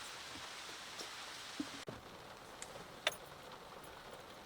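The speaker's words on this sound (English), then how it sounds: "it's starting to rain a little harder" Steady rain hiss with occasional louder drips and taps nearby, a brief sharp knock partway through, no voices.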